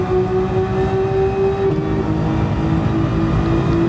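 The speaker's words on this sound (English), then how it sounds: "Just listen to the engine, dude." A race car engine in the Gran Turismo Sport video game drones with a steady, loud tonal hum at high revs, its pitch holding then shifting slightly as the car runs, with no talking.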